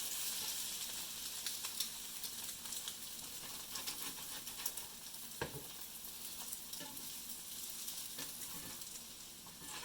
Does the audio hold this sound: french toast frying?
yes